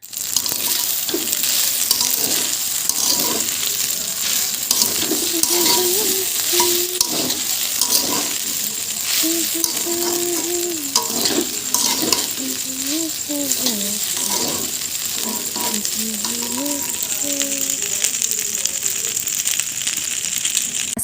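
Pasta being stirred and fried in a pan with a little turmeric and salt, giving a steady sizzle with repeated scraping and clattering of the spoon against the pan throughout, close and fairly loud.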